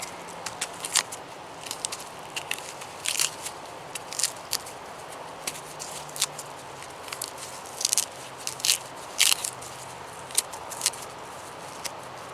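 A yucca root peeled by hand gives irregular crisp snaps and tearing crackles, scattered close bursts over a quiet background, with no talking.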